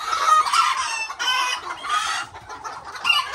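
Old English Game and Azteca bantam chickens cluck and crow continuously at close range, with loud overlapping calls and no speech over them.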